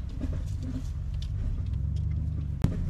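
Engine of a Honda ATC 185s three-wheeler off-roading up a rough mountain track, a steady close low rumble running throughout with a sharp knock near the end.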